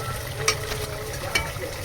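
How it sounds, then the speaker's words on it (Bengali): Chunks of taro frying in a pan, a steady close sizzle with two quick scraping stirs of a spoon. "এবার কচুটা লাল লাল ভাজা হয়ে গেছে।"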